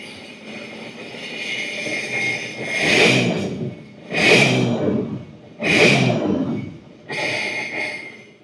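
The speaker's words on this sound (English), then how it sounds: "We'll go inside and we'll rev the throttle." Scarab jet boat engine on the flusher, idling then revved in four strong throttle bursts that swell and fall back, close and loud with no talk.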